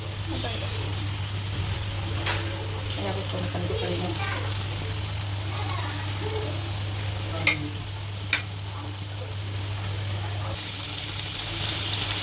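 Pointed gourd and prawns fry in a pan with a steady close sizzle, a spoon scraping and stirring throughout with two sharp clinks near the end, over a constant low hum and someone talking.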